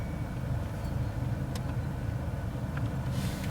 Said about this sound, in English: Yes, I've got the engine running.